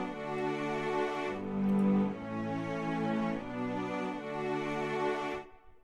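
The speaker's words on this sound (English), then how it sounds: "If we go into the Flex plugin, Essential Strings, I guess, and we have the cello sustain right here." Cello sustain pad from the Essential Strings library in a Flex plugin plays a slow progression of rich held chords, each swelling and changing roughly every second and a half, warm and full with a short tail fading at the end.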